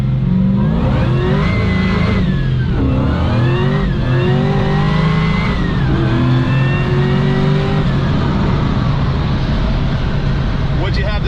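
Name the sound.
custom car accelerating hard in 6th gear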